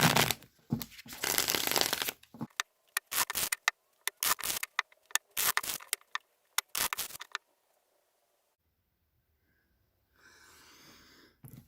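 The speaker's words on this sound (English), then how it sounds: "I just give them quite a few shuffles" Tarot cards shuffled by hand in a series of quick riffling bursts, rapid papery flutters separated by short pauses, close and fairly loud, followed by near silence and a faint rustle at the end.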